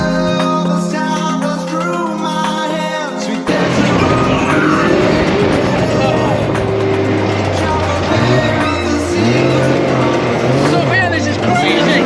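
A 200-horsepower dune buggy races across desert sand in Dubai, its engine roaring loud, close and continuous after a brief quieter opening, with the pitch rising and falling as it revs.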